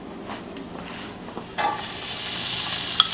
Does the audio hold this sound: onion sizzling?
yes